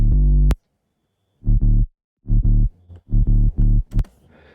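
A dubstep sub bass plays alone: deep, buzzy low notes in short rhythmic bursts, one long hit followed by a syncopated run of shorter pulses with silent gaps.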